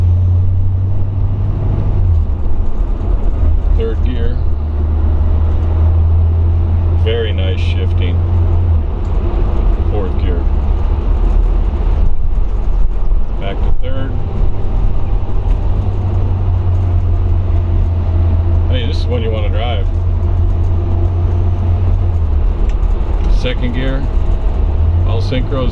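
A 1961 Pontiac Ventura with a 389 Tri-Power V8 and four-speed cruises in third gear, its steady low engine drone and road rumble loud and constant throughout, with brief rattles and creaks over the top.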